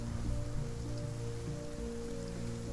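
Steady rain ambience plays as a backdrop during a tabletop Dungeons & Dragons session, a constant soft hiss with low sustained hum beneath it, no voices.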